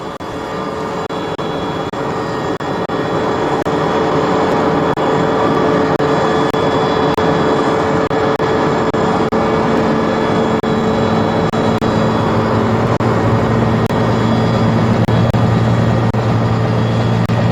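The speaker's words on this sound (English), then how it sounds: "a fleet of helicopters is employed, bringing in fresh troops, provisions and water" Military helicopters flying as a fleet ferrying troops, provisions and water in a South African army operation, a loud, steady droning engine and rotor roar holding level throughout with no voices.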